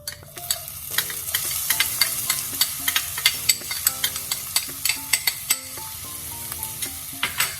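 Ginger and garlic paste fries in a pan with a continuous sizzle and crackle, while a utensil scrapes and taps the pan in a quick, regular rhythm of stirring.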